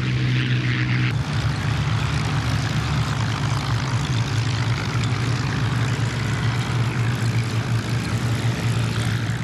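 A WWII Hurricane or Spitfire fighter flies past, its propeller engine a loud, continuous droning roar that holds steady throughout with no voices.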